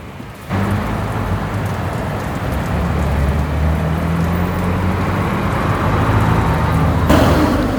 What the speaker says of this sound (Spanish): La lluvia que sigue